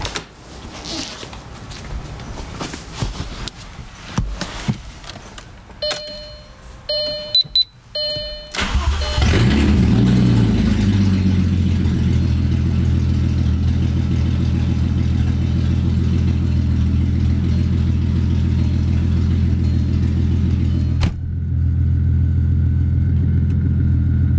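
Supercharged Audi B5 A4 2.8 V6 with no exhaust fitted: beeps and clicks, then the engine cranks and fires into a loud, raw, steady idle that holds for over ten seconds.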